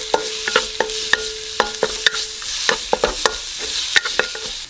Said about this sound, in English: we're going to be adding some minced garlic along with some finely minced lemongrass